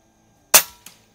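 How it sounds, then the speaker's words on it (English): An Air Venturi Avenger air rifle fires a single pellet at a 50-yard range: one sharp, close crack followed a moment later by a fainter second snap, then silence. "this is a really good shooting gun at 50 yards"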